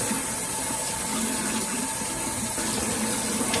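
Tap water runs steadily at a sink while conditioner is rinsed from the hair of a thrifted vintage Velvet doll from the Beautiful Crissy family, a continuous close splashing rush with no pauses and no talk.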